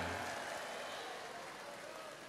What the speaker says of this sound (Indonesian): Nah, beri tepuk tangan